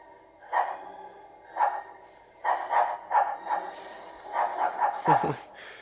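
A dog barks in scattered single and double woofs, moderately close, with pauses between and a quick flurry of barks near the end.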